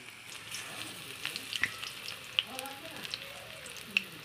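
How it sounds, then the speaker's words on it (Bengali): Marigold flower fritters sizzle steadily in hot oil, a soft continuous crackle broken by a few sharp pops and light clicks from close by. "ফুলের বড়াগুলোকে দিয়ে দিচ্ছে ভাজার জন্য"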